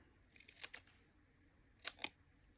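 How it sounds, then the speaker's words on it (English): Scissors trimming a paper embellishment, with two quick pairs of crisp close snips separated by a short pause, faint and alone. "maybe I could cut this down like this, trim this down this way"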